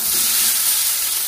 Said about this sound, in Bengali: সবজিগুলো ভাজা হয়ে গেছে